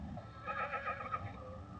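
A horse on a rehabilitation farm in Fort Worth, 1971, gives a faint, fairly distant neigh lasting about a second over low background rumble.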